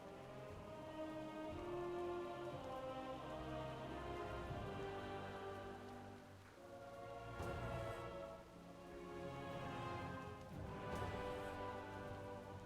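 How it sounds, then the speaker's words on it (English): Steady rain falling in an online fantasy game world, a soft continuous patter on the surface layered with ambient game music, holding at a moderate level throughout with no voices. "it's raining on Moonguard"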